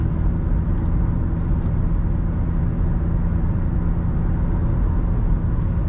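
Inside a Toyota Auris 1.4 D-4D diesel (90 HP, 205 Nm) cruising in fifth gear at about 105–110 km/h and just over 2500 rpm, a loud, steady low engine and road drone fills the cabin without a break.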